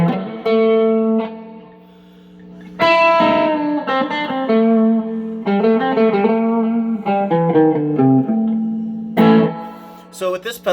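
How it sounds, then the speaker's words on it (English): Distorted electric guitar plays chords and short riffs through a Peavey Delta Blues amp with the gain turned up, loud and gritty with sustained notes and brief pauses between phrases. "turn the gain up, get a little more distortion here."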